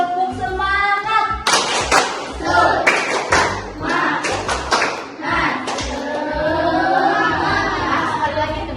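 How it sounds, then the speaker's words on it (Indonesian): A standing classroom group performs the rhythmic 'tepuk semangat' spirit clap, a patterned burst of hand claps mixed with loud overlapping voices and chanting. "tepuk semangat"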